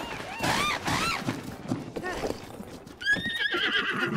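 A horse in The Legend of Zelda: Breath of the Wild neighs repeatedly over steady clip-clop galloping hooves, a loud whinny cutting in near the end, with players talking over the action.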